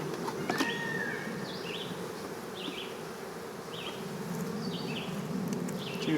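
Honeybees buzzing steadily around hive boxes during a nuc transfer, a soft continuous hum with faint bird calls in the background.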